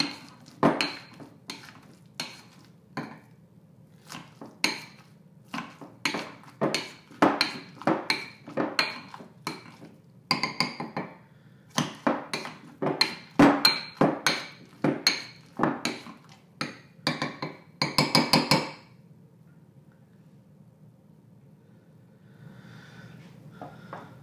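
Three avocados are mashed in a bowl with a utensil, making a long series of sharp clacks and squishy knocks in an uneven rhythm. The sounds are close, and they stop abruptly before a quiet, soft tail.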